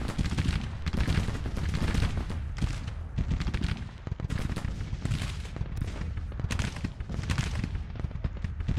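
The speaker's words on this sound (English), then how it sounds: "Had one hell of an artillery duel in this one" Sustained battle in the Civil War strategy game Grand Tactician, with dense rolling volleys of musket gunfire and repeated heavy artillery booms, loud and continuous throughout with no pauses.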